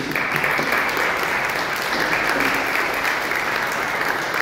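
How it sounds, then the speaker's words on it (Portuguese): A church congregation applauds steadily after a baptism service, a dense, sustained round of clapping filling the room with no talk over it. "Uma salva de palmas para eles"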